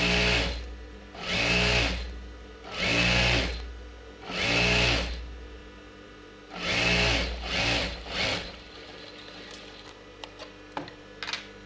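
A sewing machine stitches a blouse hem, its motor whirring close by in five runs of about a second each, separated by short pauses, before stopping into quiet rustling.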